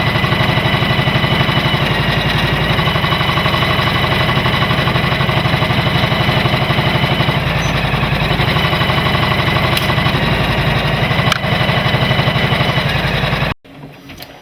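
A Janome Memory Craft 500d embroidery machine stitches underlay with a loud, constant mechanical chatter and a rapid needle beat. The sound stays close and steady, then cuts off abruptly near the end.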